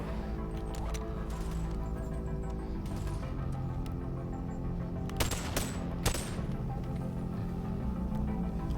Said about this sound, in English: I hear someone shooting.